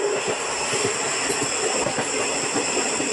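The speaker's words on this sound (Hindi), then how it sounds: "ट्रेन आ रहा है, हॉकिंग का एंजॉय लीजिए।" A train rolling along the rails in the Railway Simulator India game on a night run, a steady loud rumble of wheels and engine that carries on without a break.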